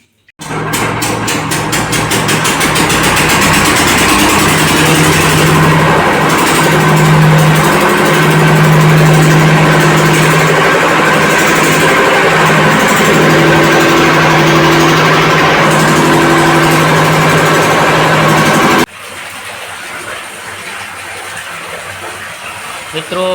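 A borewell pump engine starts and runs loud and steady with a constant droning hum and rushing noise for about nineteen seconds, then abruptly drops to a quieter background.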